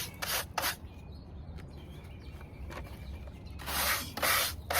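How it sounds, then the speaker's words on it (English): A stiff brush scrubs an old wooden beehive frame in short, close, bristly strokes, a few quick swipes at the start and again at the end with quieter scraping between. "Take my brush here and brush it off a little bit. It's a good stiff brush."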